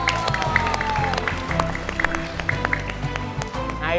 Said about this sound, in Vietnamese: Vỗ tay cổ vũ bạn nha.